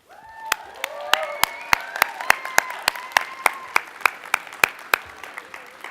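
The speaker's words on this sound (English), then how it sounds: "give them a big round of applause" A crowd applauds at a law school hooding ceremony, with sharp, close hand claps landing in a steady rhythm over softer background clapping while a voice carries on underneath.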